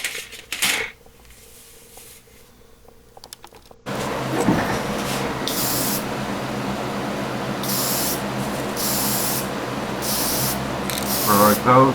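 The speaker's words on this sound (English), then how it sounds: "I sprayed the degreaser on it here." An aerosol can of degreaser hisses onto a 1963 Chevy II Hot Wheels die-cast car during a restoration, a quiet handling noise first, then a loud sustained spray with several short extra bursts near the mic.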